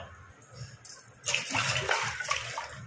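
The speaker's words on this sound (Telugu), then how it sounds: "నీళ్ళు బాగా మరలేటప్పుడు ఇది పోయాలి" A mixture is poured into boiling water in a pot, the splashing pour starting suddenly after a quiet simmer and continuing steadily to the end.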